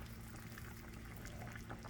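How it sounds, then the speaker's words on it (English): Water boiling in a pot with green banana and green plantain, a soft continuous bubbling and low simmering hiss, faint and steady, with no talking. "I just want you to see how it's boiling"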